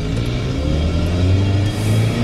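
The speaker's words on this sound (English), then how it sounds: "It's kind of fun to drive the stick shift." A Chevy S10 pickup with a stick shift drives along, its engine giving a steady, loud mid-pitched rumble with a slight rise in revs throughout, no voices.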